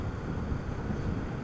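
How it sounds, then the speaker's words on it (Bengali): Cold wind blowing hard across the middle of a river after rain, heard from a bridge during a motorbike trip, a dense low rumbling buffet of wind against the microphone, steady and loud with no voices. "নদীর মাঝখান দিয়ে প্রচুর বাতাস বইতেছে"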